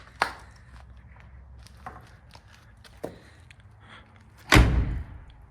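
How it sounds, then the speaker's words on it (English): A door of a 1966 Oldsmobile F-85 station wagon in an abandoned garage swings shut with one loud, close thud, after a few faint scattered clicks and footsteps. "Door's shut nicely."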